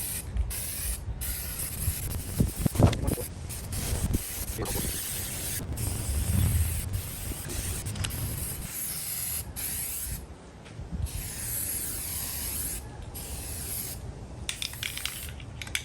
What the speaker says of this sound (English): I'm going to use black as a base here